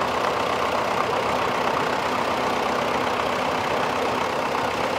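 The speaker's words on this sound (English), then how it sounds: "Great to see these old tractors going." Old Massey Harris and John Deere tractors run steadily with a continuous, moderately loud engine drone, sounding alone with no voices over it.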